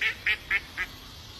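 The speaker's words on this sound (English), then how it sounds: "The damn fucking duck started laughing when I said that" A duck gives four short, bright quacks at an even pace, the first ones louder and the last fading slightly, with no one talking over them.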